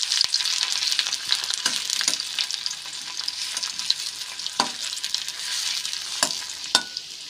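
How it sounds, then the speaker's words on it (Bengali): Chopped onions sizzle in hot oil where garlic was just fried, a close, crackling hiss broken by sharp scraping stirs and clinks of a utensil against the pan, with no talking. "এখন ওই তেলের মধ্যে দিয়ে দিচ্ছি কেটে রাখা পেঁয়াজ কুচি"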